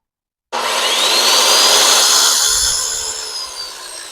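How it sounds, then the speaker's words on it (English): A circular saw powered by a portable power station spins up sharply from silence to a loud, close, high whine, holds steady, then begins to wind down, with no one talking. "Let's try the circular saw by itself."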